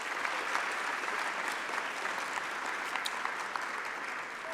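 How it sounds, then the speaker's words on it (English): An audience at a New York City awards ceremony gives a quick round of applause, a steady wash of many hands heard faintly and from a distance, with no voices over it. "give them a quick round of applause for everybody"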